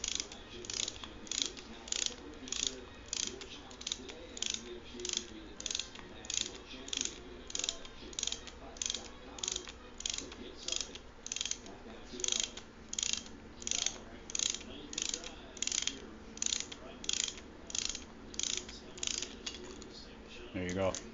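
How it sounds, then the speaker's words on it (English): A ratchet tightening nuts on a Yamaha Apex snowmobile A-arm bushing, a steady run of close, crisp mechanical clicks in even repeated strokes with brief pauses between them. "So you got to tighten the nuts up to that point"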